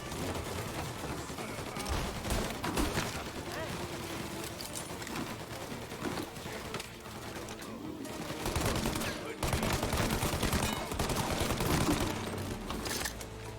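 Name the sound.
gunfire in a shootout, from the video game Mafia Definitive Edition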